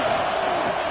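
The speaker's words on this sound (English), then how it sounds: "The roar of the crowd trying to fuel this defense to keep them pinned in their own end" Steady roar of a stadium crowd in a football video game, a dense continuous wash of cheering that sits close and loud, with a faint voice mixed in.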